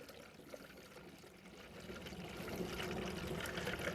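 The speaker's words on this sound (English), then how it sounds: "So fill the tank up." Clean spring water pours steadily into the radiator tank of a 1906 Reo Model B antique car during a coolant flush, a continuous trickling splash that grows slightly fuller over a few seconds, heard alone without talk.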